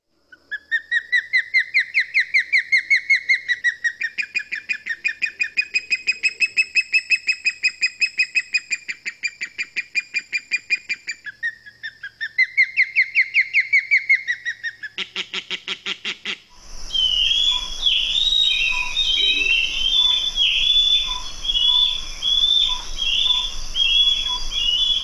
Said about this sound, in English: We have the one that likes fish, which is called an osprey, a large bird here. We'll play a bit of his sound.